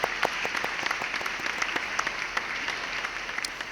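Audience applause at an engineering CAD design competition award ceremony, steady dense clapping that holds at moderate level throughout.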